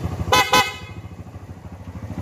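A Kawasaki Barako II motorcycle horn gives two short, bright honks in quick succession, loud and close, followed by the low idle of the engine.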